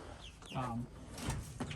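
Free-range hens cluck in short bursts across the clip, close by and moderately loud, over a steady background of outdoor noise.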